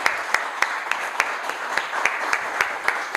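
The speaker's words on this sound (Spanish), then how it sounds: "Pido un aplauso" An audience applauds a professional women's footballer with steady, evenly spaced rhythmic clapping over a soft wash of hands, moderately loud throughout.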